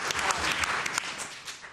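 Applause from an audience at a Los Alamitos school board meeting, a steady wash of clapping hands that carries throughout the short moment and tapers slightly toward the end.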